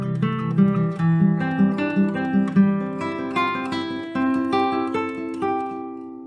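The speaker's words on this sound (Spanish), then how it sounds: "Y si lo toco con el arpegio, suena así." A guitar plays a tonic chord as a bass arpeggio, with a dozen or so plucked notes ringing out one after another at a steady, moderate pace, clear and alone.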